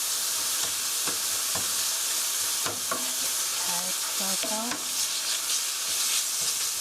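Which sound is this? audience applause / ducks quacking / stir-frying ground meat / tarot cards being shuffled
stir-frying ground meat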